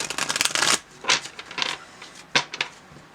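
Lenormand cards being shuffled close up: a long riffling burst, then several shorter bursts of flicking and tapping with brief pauses between.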